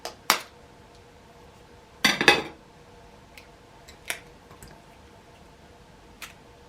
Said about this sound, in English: Mix again until thoroughly combined.